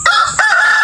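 A chicken in a chicken tractor lets out a short, close crowing call, loud and drawn out, in a single brief burst.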